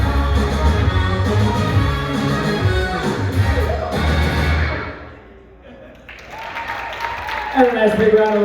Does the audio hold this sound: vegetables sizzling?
no